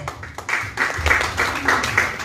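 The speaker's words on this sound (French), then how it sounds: "est-ce qu'on peut applaudir alors?" Audience applause at a press conference in Douala, Cameroon, a steady patter of many hands clapping close by for a couple of seconds, with no speech over it.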